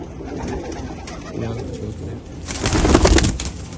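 High-flying pigeons coo softly nearby, with murmuring calls building louder toward the end. Faint voices can be heard in the background.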